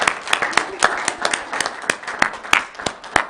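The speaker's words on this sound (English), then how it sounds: "Let's give him a round of applause" A small audience claps at a Weber County meeting to honour a Hall of Fame recipient. The applause is brisk and sparse, with sharp individual claps in an uneven rhythm.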